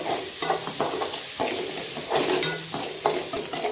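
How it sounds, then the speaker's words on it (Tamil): Onions sautéing in a pan for a home-cooked Tamil banana-flower dish, a steady close sizzle broken by repeated scraping and stirring strokes, with no talking. "இப்போ வந்து வெங்காயம்லாம் நல்லா வதங்கட்டும்"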